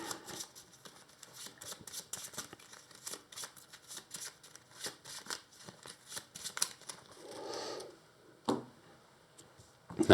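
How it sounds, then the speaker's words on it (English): Playing cards from a Marvel Champions card game being shuffled into a deck by hand, a run of quick riffling clicks and flutters at close range, with a softer sliding burst near the end. "we have 1, 2, 3 cards which we shuffle into our deck"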